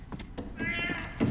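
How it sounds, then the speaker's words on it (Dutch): A cat meows once, a short, close, clear call within the game The Last of Us: Left Behind, set over soft thuds and faint background game sound. "Fucking cat."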